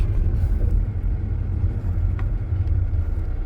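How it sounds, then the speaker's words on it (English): Chevy Malibu driving along with a steady low engine and road rumble throughout, close and continuous, with no clear change marking the braking; the car's fault is a brake pedal that locks up after the brake booster was replaced. "we're gonna drive for a second, apply the brake"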